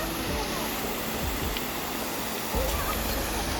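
Waterfall in Talybont, Wales in the rain, a loud, constant broadband rush of falling water filling the scene, with faint low voices underneath.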